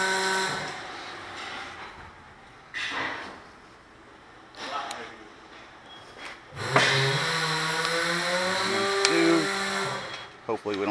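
A socket tool works a tight bolt on the front brakes of a 2007 GMC Sierra 2WD pickup, giving several short mechanical bursts and a longer grinding stretch near the mic, with someone talking between them.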